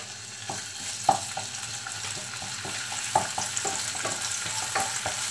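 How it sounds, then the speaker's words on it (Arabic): Chopped garlic and lemon peel in olive oil fry gently in a frying pan, making a low steady sizzle while a utensil scrapes and taps the pan in a loose, repeated rhythm. "غادي غير نحركهم هكا واحد شويه، كتنسم بهم الزيت شويه."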